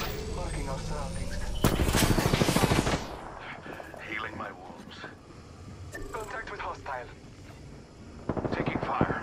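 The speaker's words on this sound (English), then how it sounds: "Taking fire." Rapid automatic gunfire in the Apex Legends video game, with bursts of loud rattling shots near the start and again at the end, interleaved with smaller clicks and effects, while a character's voice speaks over it.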